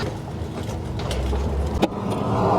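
A ratchet with an extension and 17mm socket turns a bolt on a 2016 Ford Transit van XLT350, producing close mechanical clicking and creaking with one sharp knock, under steady workshop noise.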